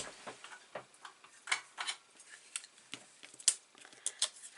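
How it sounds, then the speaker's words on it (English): A spare piece of card is cut into a circle with scissors, giving a run of close, crisp snips and clicks in an uneven rhythm with no voices. "I'm going to cut a circle"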